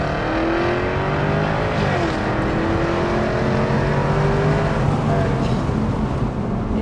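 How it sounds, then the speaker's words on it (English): A Jaguar F-type R with a V8 engine drives hard, its loud continuous engine drone rising and falling through gear changes, heard from inside the car with no talking. "This is the fastest car by far I've ever driven."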